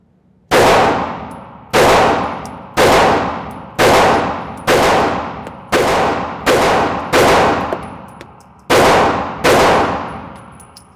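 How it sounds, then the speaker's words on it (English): Ten sharp gunshots from an HK CC9 pistol at a shooting range, loud and close, fired at a steady pace about one per second, with a short pause before the last two, each ringing out briefly. "that's first shots out of the gun for us"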